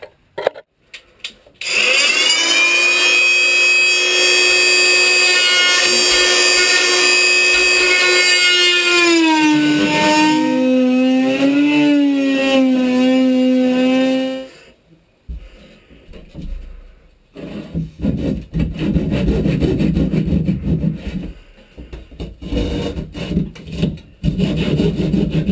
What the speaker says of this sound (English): I'm going to use my trusty oscillating saw again. It's going to be pretty loud and pretty dusty